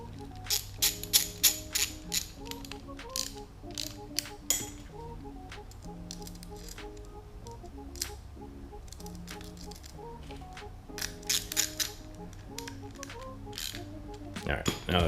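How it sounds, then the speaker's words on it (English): A 7mm socket ratchets down bolts on a Drok 110-volt power meter box build, giving close, repeated bursts of quick metallic clicks with brief pauses between them. "using a 7mm socket to tighten them down."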